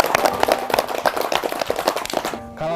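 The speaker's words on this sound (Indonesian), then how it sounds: "Tepuk tangan." Children clapping their hands together in a classroom-style gathering, a brisk burst of many small claps at close range that cuts off abruptly near the end, followed by a brief tonal sound.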